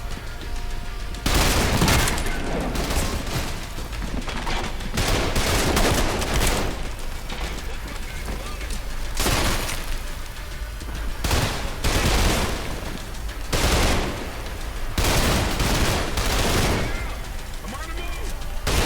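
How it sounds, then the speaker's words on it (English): Loud bursts of gunfire from the video game BANG BANG, clustered volleys and rapid automatic fire repeating in waves over steady background noise, with speech mixed in. "Shot noises are so loud."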